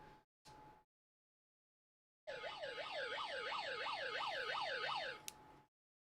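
A wailing electronic siren rises and falls rapidly in a steady repeating cycle for about three seconds, loud and close, after a short silence with brief noise bursts.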